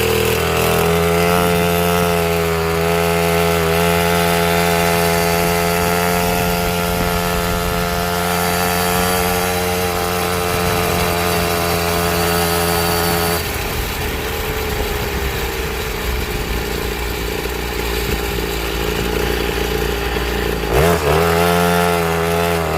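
A cheap two-stroke dirt bike engine buzzes loudly and continuously while being ridden, its pitch shifting as the throttle rises and falls, with a brief drop and revving near the end.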